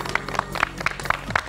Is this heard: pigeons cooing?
no